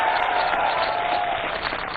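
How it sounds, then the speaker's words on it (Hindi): Audience at a live political TV debate in Bhagalpur applauds steadily for the full two seconds, dense clapping spread evenly with a faint tonal whine running underneath. "सबसे पहले तालियां हो जाए भागलपुर की शानदार जनता"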